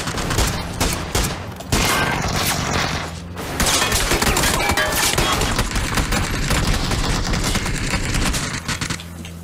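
Dense gunfire in the battle royale game PUBG, with sustained bursts and rapid volleys that run almost continuously and loud, while players talk over them.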